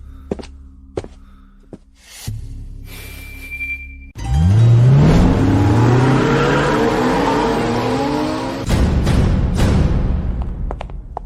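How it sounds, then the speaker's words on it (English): A car pulls away hard with a loud roar of acceleration and squealing tires, rising sharply after a few quieter seconds and staying close and loud until the end. "Your cleaner employers already took off in Mr. Miller's car"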